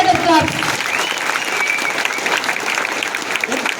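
Audience at a one-day training meeting in Suryapet clapping loudly and continuously, dense close applause with voices mixed in.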